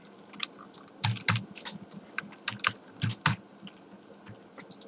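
Fingers tap out C code on a computer keyboard for a simple calculator program, a close run of uneven clicking keystrokes with a few heavier key presses, no talking.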